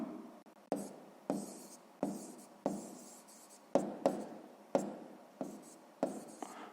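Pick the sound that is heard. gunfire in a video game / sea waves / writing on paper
writing on paper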